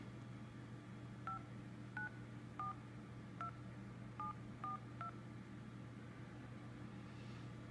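A series of short, faint two-tone iPhone 5 keypad beeps, about seven in an uneven rhythm, over a steady low background hum.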